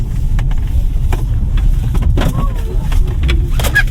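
Cabin sound of a 2024 MG One 1.5T Lux driven in super sport mode toward a slalom: a loud, steady low engine and road rumble fills the car, with faint squeaks and thumps over it and no speech.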